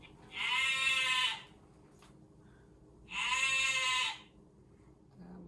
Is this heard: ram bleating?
yes